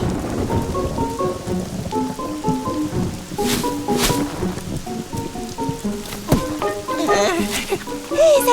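Rain with rumbling thunder in a French cartoon storm scene, heard under steady background music with sharp thunderclaps around the middle and end.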